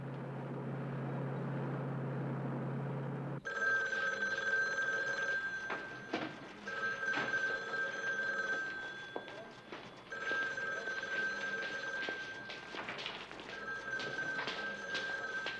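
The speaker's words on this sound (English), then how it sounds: "Nobody answers the phone around here." A telephone rings on and on unanswered indoors, its repeated electronic trills coming in regular bursts over a low background hum, with no one picking up.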